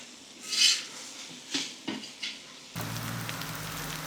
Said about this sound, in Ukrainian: Обжарюємо одразу все те.